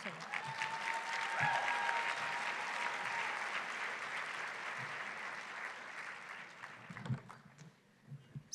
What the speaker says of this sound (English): So big round of applause to the special distinction and honor roll companies.